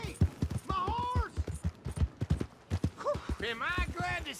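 Horse hooves clip-clop on the streets of Valentine in the video game Red Dead Redemption 2, a run of quick, hard taps mixed under shouting character voices at fairly low overall volume.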